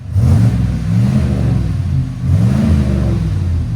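Car engine revved through a Flowmaster exhaust, two loud rising-and-falling revs over an idle rumble, close and deep, no talk.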